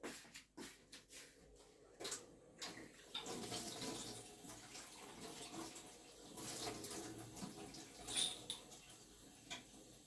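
Running water splashes faintly and unevenly as pearls are rinsed under it, a soft trickling wash with occasional louder gushes.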